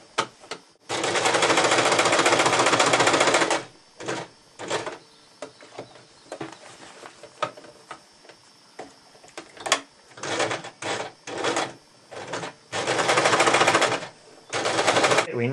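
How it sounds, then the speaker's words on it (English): A sewing machine stitches an accent-fabric panel onto a fabric bag for life, starting with a long loud rattling run, then breaking into many short stop-start bursts, close by. "We're now ready to begin sewing."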